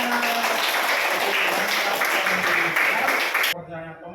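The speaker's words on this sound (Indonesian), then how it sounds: "Oke, tepuk tangan." Applause from a classroom of students, dense steady clapping filling the room for about three and a half seconds before breaking off, with a voice beginning to talk at the end.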